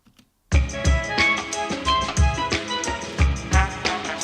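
An orchestral theme with a full string section enters after a short silence and plays loud and rich, with low accents pulsing at a steady beat beneath sustained bowed harmonies.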